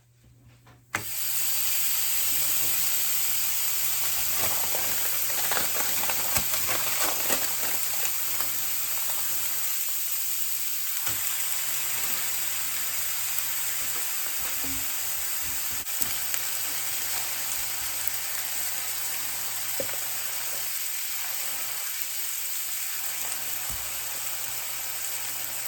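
Burger patties sizzle loudly as they fry in a pan for a patty melt, a constant dense crackle and hiss that runs nearly the whole length with a steady low hum underneath.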